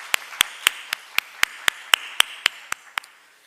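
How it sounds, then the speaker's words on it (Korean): About a dozen crisp, evenly spaced claps at a Sunday church service ring out alone in a slow, steady rhythm, fairly close and sharp, fading slightly at the end. "우리 하나님께 영광의 박수를 돌려드리겠습니다."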